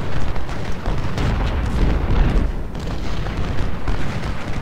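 Artillery cannon fire rolls through a Civil War battle in the strategy game Ultimate General: Civil War, a loud, dense, continuous low rumble of overlapping booms without clear gaps.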